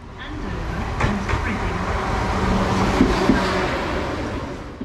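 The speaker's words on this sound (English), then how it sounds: "Our train arrives from Weymouth on time." A South Western Railway Class 444 Siemens Desiro electric multiple unit pulls into a platform with a steady rumbling roar, a brief squeal of brakes and rail noise, while someone talks over it.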